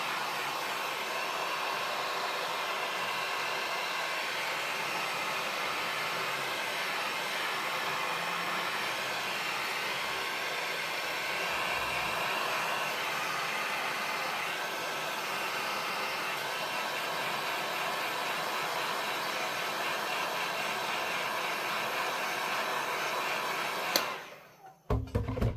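A hair dryer blasts steadily and loudly up close while drying a fern print made on a gel plate, a continuous roaring whoosh that cuts off abruptly near the end.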